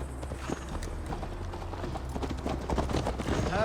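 A horse ridden in Assassin's Creed Valhalla, with steady clip-clopping hoofbeats at a trotting rhythm under a low ambient rumble, moderately close and continuous.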